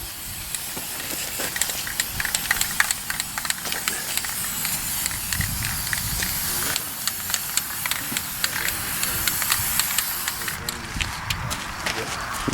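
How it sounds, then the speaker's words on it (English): Spray paint hisses from an aerosol can as car wheels are blackened, coming in repeated short bursts over steady outdoor background noise, with people talking at times. "Spray paint."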